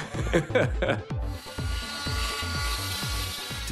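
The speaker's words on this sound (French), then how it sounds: "Pour retirer le plâtre, il faut une scie, mais pas n'importe laquelle." A small cast saw buzzes in short grinding bursts, then settles into a steady high whine as it cuts through a plaster cast, close and fairly quiet.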